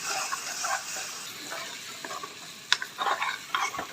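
Spice mixture for broiler chicken frying in a pan, with a steady soft sizzle under repeated scraping stirs and a few sharper knocks of the utensil against the pan near the end.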